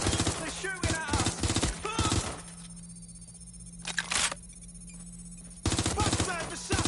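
Gunfire in the video game Watch Dogs Legion: bursts of rapid shots, crisp and close, come in separate clusters with quieter stretches between them, over a low steady hum.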